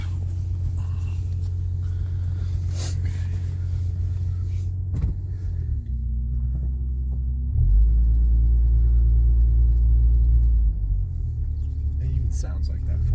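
A 1982 Ford Granada engine with an oil leak, rumbling low and steady from inside the car, swelling louder midway as the revs rise then settling back, with occasional clicks and movement around it.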